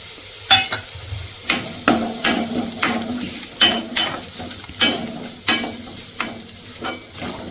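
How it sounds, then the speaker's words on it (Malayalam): Onion and spice powders stir-fried in a pan over a high flame for a lentil curry, with a steady sizzle broken by about a dozen sharp scraping stirs in an irregular rhythm, close and fairly loud, no voices. "ഹൈ ഫ്ലെയിമിൽ വെച്ചിട്ട് ഈ സവാള നമുക്ക് വഴറ്റിയെടുക്കാം"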